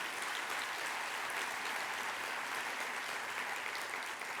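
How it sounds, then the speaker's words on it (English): A conference audience at a NACTO closing keynote gives a steady, unbroken round of applause, moderately loud and even from start to finish. "let's just give them a round of applause"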